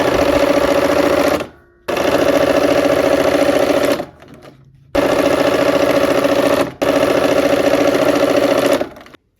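A sewing machine stitches a quilt block in four long bursts of fast, even mechanical whirring, each stopping abruptly with short pauses between, close and loud with no talking.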